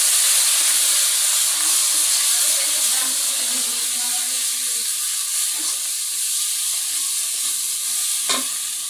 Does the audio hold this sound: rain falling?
no